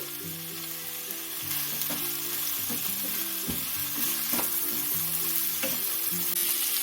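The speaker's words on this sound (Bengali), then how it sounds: "পেঁয়াজটা আমি হালকা করে ভাজা ভাজা করে নিলাম এর মধ্যে দিয়ে দেবো একটা ক্যাপসিকাম" Onions and cubed capsicum sizzle and fry steadily in a pan, with scattered clinks and scrapes of a spatula stirring throughout, close and moderately loud with no talking.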